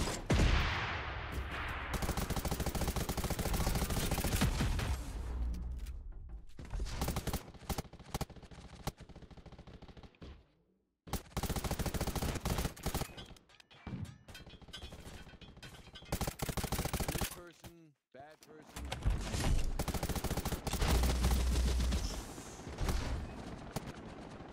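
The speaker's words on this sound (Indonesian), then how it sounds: "Tembak terus, tembak terus." Dense bursts of video game gunfire from Garena Undawn, with loud sustained volleys and automatic fire broken by short pauses, and a voice speaking now and then.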